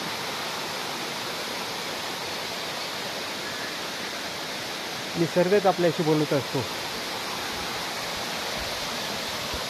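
A constant, full rush of gurgling water fills the air near Bhairav cave along the Narmada parikrama, interrupted once midway by a brief spoken phrase from a man.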